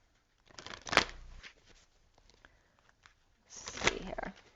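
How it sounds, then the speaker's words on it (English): A deck of oracle cards riffled in two close, crisp bursts with soft card handling and slides between them, no talking. "we're going to pull some oracle cards for you as well"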